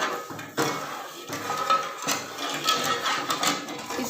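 Spoon clinking and scraping against a metal pot while stirring tomato ketchup ingredients with salt and sugar, a run of light, irregular taps and scrapes, close and fairly quiet.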